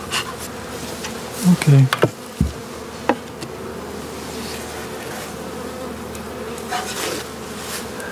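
Honey bees buzz steadily around a small nuc hive being overwintered on a double screen board in a bee yard, a close, continuous drone with a few sharp knocks and one short spoken word.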